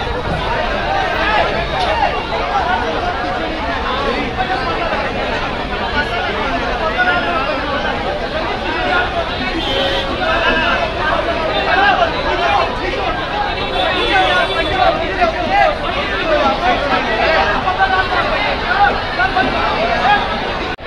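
Dense crowd of devotees at the Mahakali temple in Garha Phatak, Jabalpur, during Navratri, a constant loud babble of many voices with a person speaking over it.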